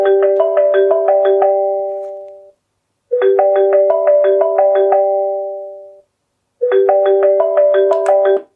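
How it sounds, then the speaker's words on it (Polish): A Rebeltec SoundClock 120 alarm clock rings with a bright melodic ringtone, a quick phone-like tune repeated three times with short gaps, loud and close. "No i to jest właśnie dźwięk budzika."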